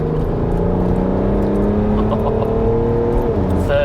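BMW E91 335d touring, a Stage 2+ tuned diesel making 400 bhp, pulls hard through the gears from inside the cabin, a steady loud engine drone with rising revs and a brief shift near the end.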